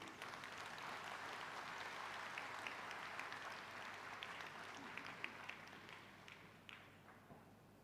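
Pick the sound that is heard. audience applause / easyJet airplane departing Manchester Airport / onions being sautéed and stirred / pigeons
audience applause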